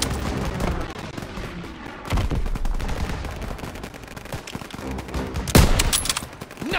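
Dense battlefield gunfire from Call of Duty WWII rattles in rapid bursts and single cracks, with automatic weapons firing close and steadily and one sharp, heavy blast standing out near the end.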